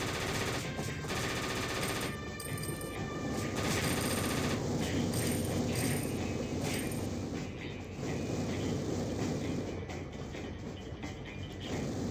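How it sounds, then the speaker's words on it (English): Rapid mechanical gunfire from a Gatling gun in the video game Cactus McCoy, a dense continuous rattling burst lasting throughout with ratcheting, whirring texture and a few brief gaps. "Alright, so this is a Gatlin gun"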